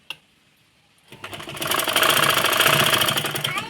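A sewing machine stitches a large quilt (godhadi): after a brief click and a second of quiet, the motor spins up into a fast, steady, close mechanical whir and rattle that runs to the end.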